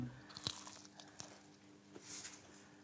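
A single crunchy bite into a fried lemon fritter made with almond powder and candied lemon zest, followed by soft, quiet chewing at close range.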